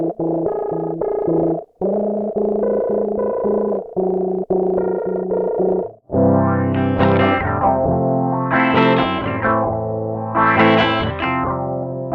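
An electric guitar run through a Moog Grandmother synthesizer, first choppy buzzy chords broken by short gaps, then brighter sweeping tones that swell and fade repeatedly.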